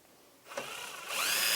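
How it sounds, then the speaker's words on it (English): A drill driver with a long extension piece drives a screw into wood. Near and fairly quiet, a short whir starts up and then rises into a louder, steady spinning at the end. "drill driver."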